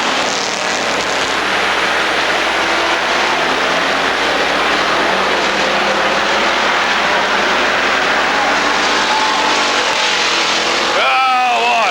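Race cars roaring past at Rockford Speedway during a 1999 bracket race, a dense loud engine wash for the whole stretch, with a sharper passing whine near the end.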